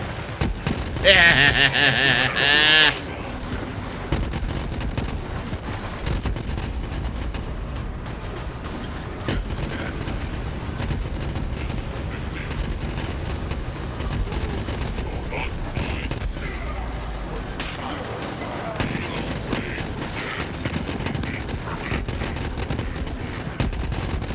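Borderlands 3 combat with a short loud burst of automatic gunfire early on, then a dense, continuous wash of distant shots, blasts and mechanical clatter at steady level.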